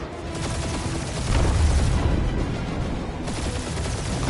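Gunfire in Guardians of the Galaxy, with dense, continuous bursts of blasts and booms that swell in the middle, heard as a loud, busy combat wash with no clear gaps between shots.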